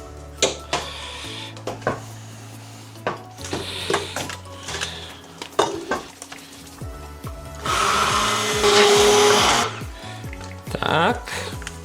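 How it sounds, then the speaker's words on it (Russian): A blender puréeing boiled kissel made from black bread, a loud whirring burst in the middle of the clip, with scattered tapping and kitchen clatter around it. "И теперь я пропущу это все через блендер"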